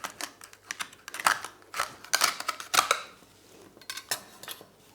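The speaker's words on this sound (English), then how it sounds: "place the butter knife in a corner indentation of the scallop, and you're going to hear a pop" A butter knife pries open a scallop shell, producing a series of sharp, close clicks and scrapes of metal on shell in an irregular rhythm, fairly quiet, with no talking.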